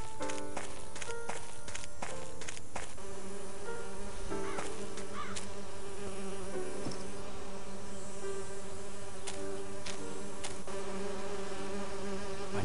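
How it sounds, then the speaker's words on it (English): Insects buzz steadily in a video game, with a continuous droning hum under layered game ambience and intermittent tonal sounds, no talk. "I need to subdue the bees first."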